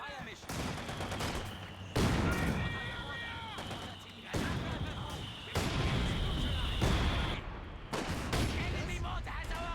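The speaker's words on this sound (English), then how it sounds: "Enemy mortar has our range." Company of Heroes 2 one-on-one multiplayer battle with enemy mortar fire: repeated heavy booming impacts and gunfire bursts crash in at steady intervals over a dense, loud battlefield din, with game unit voices mixed in.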